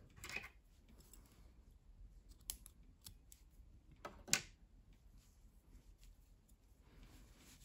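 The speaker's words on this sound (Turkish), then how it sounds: "İpliği kesiyorum." Scissors snip through knitting yarn in a quiet room, with a faint early snip and a sharper, louder close cut a few seconds later.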